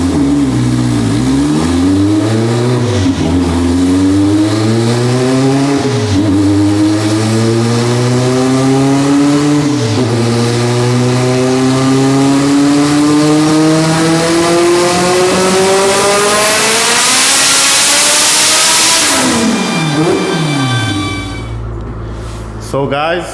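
AWD Honda Civic EG hatchback with a turbocharged B18C1 engine, boost turned up, revving hard on a dyno: loud, close engine note climbing repeatedly through the gears in rising sweeps, then a final high scream before the throttle drops off.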